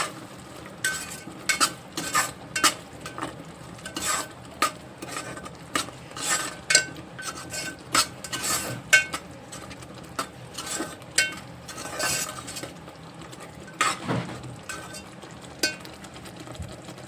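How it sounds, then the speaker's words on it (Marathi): A spoon stirs coriander powder into whole masoor lentil pulao in a pan, with repeated scraping strokes over a soft sizzle, close and steady. "ये धना पाउडर याला मिक्स करून घेऊ"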